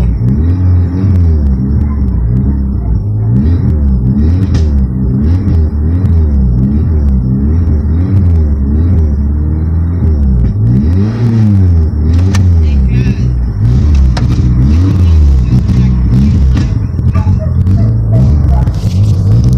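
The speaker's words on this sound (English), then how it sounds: "So we got the car running" A Nissan 240SX engine, just restarted after nine years sitting, runs steadily with a low rumble, its pitch rising and falling as it is revved repeatedly, close by and loud throughout.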